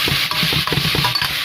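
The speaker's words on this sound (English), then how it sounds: "I'm gonna let it fry for like 2 minutes" Food for Haitian spaghetti frying in a little oil in a pan, with a steady bright sizzle under repeated scraping and stirring clinks from a utensil against the pan.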